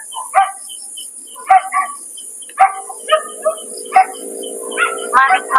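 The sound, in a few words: dog barking at a cemetery at night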